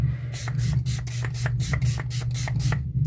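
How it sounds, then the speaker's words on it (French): A small face mist spray bottle pumped in a rapid series of short hissing bursts, about a dozen quick puffs in a row, close by over a steady low background hum, with no talking. "Donc, petit spray."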